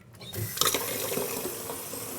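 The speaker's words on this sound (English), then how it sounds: "fill up your bucket with lukewarm water" Lukewarm water running from a tap into a bucket to make pork brine, a steady close pour with a brief sharp onset and an even rushing flow that continues to the end.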